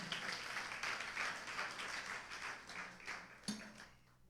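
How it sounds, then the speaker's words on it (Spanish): Congregation applauding in a church service, a burst of scattered clapping that thins and fades out, with one sharp clap near the end, quiet and somewhat distant. "Denle fuerte palmas al Señor."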